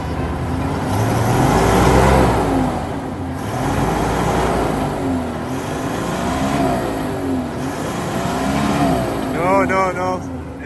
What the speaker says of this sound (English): It's spinning. Wheel spinning.